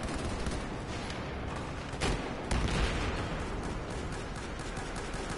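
Dense, continuous gunfire in Battlefield 4: a steady wall of overlapping shots and bursts with a couple of louder blasts, close and loud throughout.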